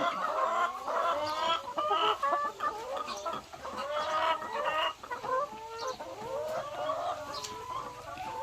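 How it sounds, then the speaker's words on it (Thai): Many laying hens cluck and murmur continuously at close range around midday, a busy overlapping flock chorus with occasional louder squawks as they chase and peck at each other. "แม่ไก่ไข่ของเรา"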